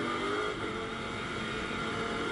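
A loud, sustained engine roar, a Lamborghini race car passing close with a continuous high-revving drone during a Super Trofeo race at the Nürburgring.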